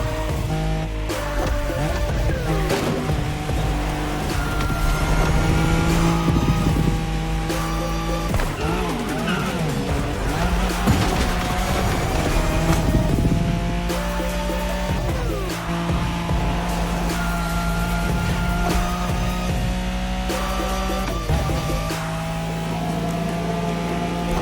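Nissan Skyline in a Wangan highway race on the Tokyo Bayshore route in The Crew Motorfest, its engine roaring loud and steady through continuous high-speed driving, with shifting revs and occasional tire squeal.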